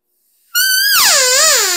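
A hunter's open-reed elk call imitates a cow elk's wavy estrus call: one sustained, high, whistling note after a brief silence, bending down and wavering. It is loud and close.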